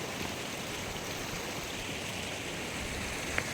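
A large clear river in Meghalaya, India, flowing over stones, heard as a soft, steady rushing wash of water with no voices.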